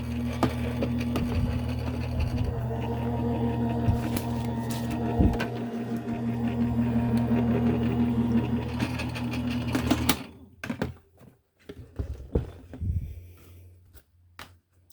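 A Sizzix Big Shot Switch die cutting machine rolls an embossing folder sandwich through with a loud, continuous grinding crank for about ten seconds, then stops, leaving a few clicks and handling knocks.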